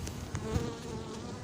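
Bees buzz thickly around an open beehive, a close, continuous hum that swells slightly midway through a brief moment.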